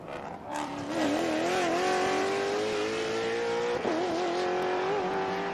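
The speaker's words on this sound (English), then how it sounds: "Those Maseratis sound really great." Maserati race cars in a TransAm race at Sebring roar past close by, one engine note rising steadily as it accelerates and then shifting briefly, loud with no talk.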